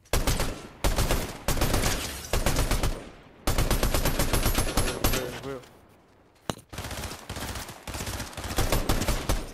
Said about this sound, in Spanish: Más disparo allá adelante